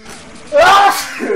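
A single loud, sudden sneeze bursts out after a brief quiet lead-in, close to the microphone, with a short breathy tail.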